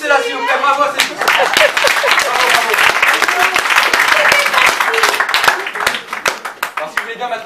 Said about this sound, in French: Applaudissez-la s'il vous plaît, bravo